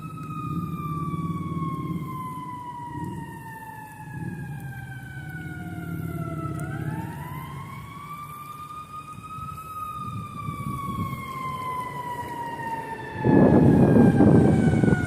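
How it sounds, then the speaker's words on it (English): Emergency vehicle sirens wail steadily near a river, their tones gliding down and rising again at moderate distance, with a rumbling gust of noise swelling near the end. "More sirens, guys."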